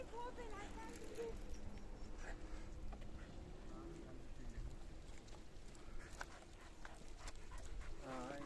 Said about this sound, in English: Got a few dogs around.